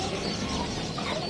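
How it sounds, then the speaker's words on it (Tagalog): Dense chorus of chickens clucking continuously at a pet market, close by and fairly loud, with a steady din and no talking. "Ito may mga manok din dito"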